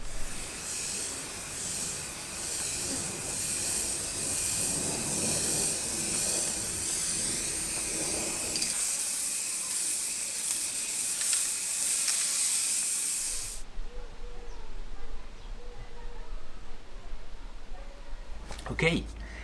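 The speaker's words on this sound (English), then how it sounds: "Second layer of clear coat, which is gonna be the last layer I'm gonna put on the spoiler." Spray gun laying a second coat of clear coat onto a Subaru Forester SF5 rear spoiler, a steady close airy hiss lasting about fourteen seconds before cutting off, leaving quieter background noise.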